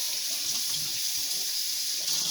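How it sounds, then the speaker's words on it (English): Hot water runs steadily from a kitchen sink tap as a kiwi fruit is washed, giving a loud, continuous hissing splash with no voices. "it seems like when it cools off, the water gets hotter out of the sink."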